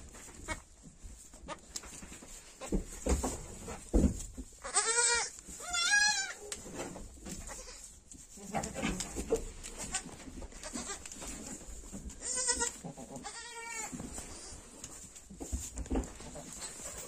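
Newborn goat kids, including a bright brown one, bleat in a barn in several clear bursts with pauses between them, over steady background hiss and faint rustling.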